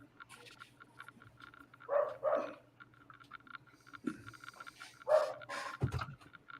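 Several dogs bark in short bursts somewhere off in the distance, muffled and intermittent, with quiet gaps between the barks.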